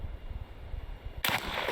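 A single .380 Hornady Critical Defense round is fired into a 3-gallon jug of whole milk outdoors. Low rumbling background gives way to one loud, sharp, close report, followed by a sustained burst of spraying noise.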